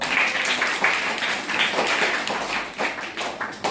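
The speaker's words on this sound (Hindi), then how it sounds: "ताली बजाओ।" Children at a school festival clap in uneven, loose bursts, a ragged patter of hands close by that swells and thins over a few seconds with no talk.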